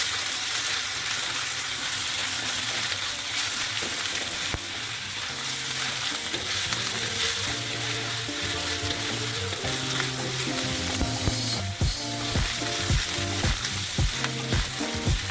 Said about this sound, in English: So now I'm sauteing my ginger garlic paste.